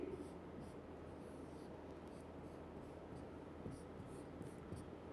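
Writing out the chemical formula of ethyne during a 9th-grade chemistry lecture makes a faint, steady scratching that continues throughout with no speech.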